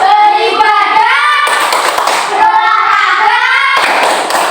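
Children in an Indonesian primary school class chant a rhythmic group clap routine, their voices rising together, with bursts of clapping hands breaking in twice between the chanted lines.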